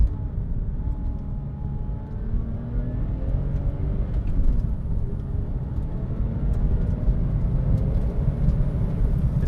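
A Porsche 996 911 Turbo on the move, a steady low engine drone and road rumble heard from inside the cabin, continuous and moderately loud with no talk.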